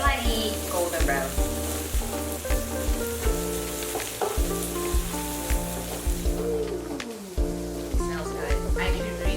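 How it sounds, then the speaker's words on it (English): Chili padi stir-fries in a pan with a steady sizzle and repeated scraping strokes of a spatula, partly masked by loud background music. "we're gonna just stir it up until the smell rises up and it turns slightly golden brown"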